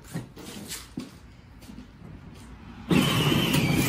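A child's mini Corvette Le Mans Commemorative Edition ride-on toy car drives close by, a steady whirring drone that jumps noticeably louder near the end, with no talking over it.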